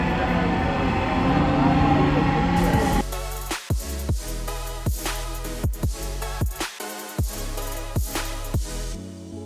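A metro train runs along the track, a loud rumbling roar that gives way to a steady run of rhythmic clacks as the wheels cross rail joints, close and continuous.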